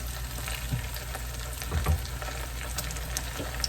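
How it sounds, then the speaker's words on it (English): Tortilla cheesecake bites frying in a pan, a steady close sizzle with faint crackles and a few soft stirring bumps, no voices. "we're basically just going to cook them until they're kind of a brownish type color"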